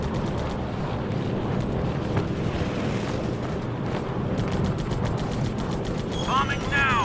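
Gunfire and bomb blasts from the air combat video game Air Conflicts Pacific Carriers, a dense continuous barrage of rumbling explosions and rapid gun bursts with a loud engine-like roar underneath, near and steady throughout.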